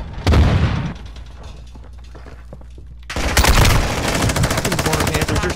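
Modern Warfare 2 gunfire: a loud opening burst fades into quieter scattered shots, then a sustained stretch of fast automatic fire takes over, loud and close.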